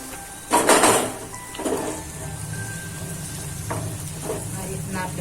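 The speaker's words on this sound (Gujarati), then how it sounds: "બધું પહેલાં બધું મિક્સ કરી દેવાનું છે" Noodles made from leftover rotis sizzle in a pan while a utensil scrapes and stirs in soy and tomato sauces in a few bursts, with clinks against the metal.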